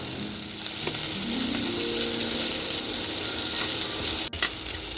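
Onion, garlic and black cumin sizzle steadily in a hot pan, a continuous close frying hiss with faint stirring scrapes and a brief clatter near the end.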